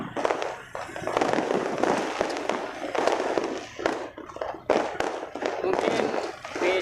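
Rapid crackling firecrackers and booming fireworks over Palembang, Indonesia, on New Year's Eve burst in irregular clusters, some sharp and close, others softer and farther off, with a murmur of voices underneath.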